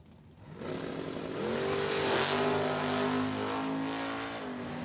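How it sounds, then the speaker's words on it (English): A dragster launches down the strip at Numidia Dragway, its engine rising from idle into a loud, climbing roar that sustains at full power as the car pulls away. "Dragster to the lane."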